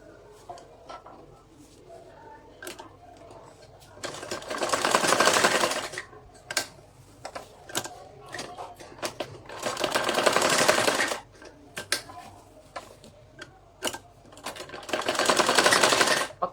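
Sewing machine stitching a salwar, running in three sustained bursts of a few seconds each, separated by quieter stretches of handling clicks and faint movement, with no talking.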